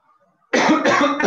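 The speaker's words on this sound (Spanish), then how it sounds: "Tengo un poco de tos." After a short quiet moment, a single harsh cough bursts out close by, loud and rough, with a second smaller cough right after.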